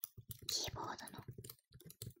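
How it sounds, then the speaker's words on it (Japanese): Computer keyboard typing in a close-mic ASMR recording: short irregular clicking keystrokes, soft and near, mixed with quiet whispering. "まあでも声ありのキーボードのタイピングを"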